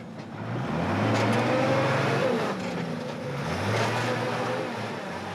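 Truck engine on the deadly mud road in Bolivia revving hard as it bogs down, two long strained surges with a dip between, loud and close.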